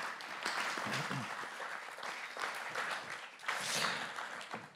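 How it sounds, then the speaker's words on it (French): Audience applause welcoming four speakers onto a stage at a talk on AI and the future of work in Grenoble, a steady wash of clapping from a mid-sized crowd, moderately loud and sustained, with murmured voices mixed in. "sous vos encouragements et vos applaudissements"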